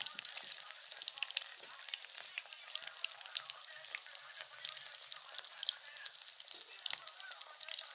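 Pakoras sizzle in hot oil with a steady, dense crackle and scattered sharp pops throughout, close up and fairly quiet, with no talking.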